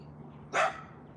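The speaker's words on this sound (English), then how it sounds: "I don't know what's going on with the dogs in the neighborhood" A neighborhood dog gives a single sharp bark at moderate distance over faint background hum.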